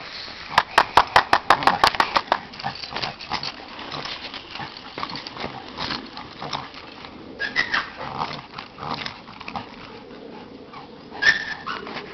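A dog whimpers and yelps close by on a trail, starting with a rapid burst of sharp cries, then softer intermittent whines and scuffling noises.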